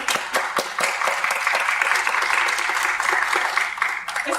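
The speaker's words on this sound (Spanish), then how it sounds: "Un fuerte aplauso para el maestro." Warm audience applause for a pianist after an opera excerpt for violin and piano, a sustained crowd of hands clapping steadily and loudly for several seconds before tapering off at the end.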